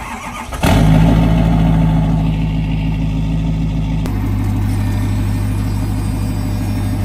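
A truck engine cranks and catches abruptly, then runs loud and close with a steady throbbing rumble, its pitch shifting slightly midway as it settles into a rough idle.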